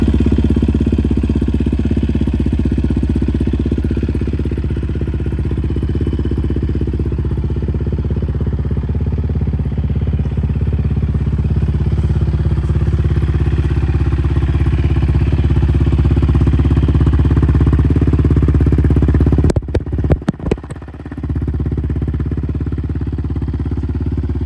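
The engine of a long-unused Yamaha Raptor 700 ATV, running with its airbox removed, churns loudly and steadily at close range, then a burst of sharp clanking cuts in near the end.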